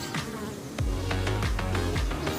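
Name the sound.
wasp buzzing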